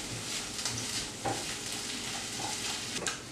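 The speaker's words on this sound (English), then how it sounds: "Now that the tomato paste is in your pan as well as your onions and your garlic," Tomato paste, onions and garlic sizzle and crackle in a pan while a utensil stirs through them, producing a continuous close frying hiss with scraping strokes and small pops.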